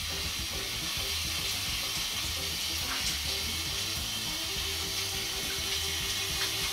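A shower runs in a steady, close, hissing spray, the even rush of water filling the space without pause or talking.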